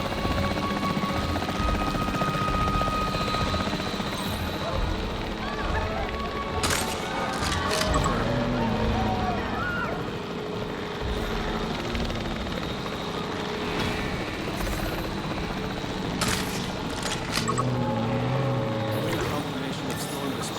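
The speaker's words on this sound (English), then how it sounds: "The priority needs to be tranquilizing it with the capture team chopper." A capture team helicopter in the Jurassic World Evolution 3 video game flies overhead, a steady whirring rotor drone that stays constant and moderately loud throughout, with occasional faint game sounds layered on top.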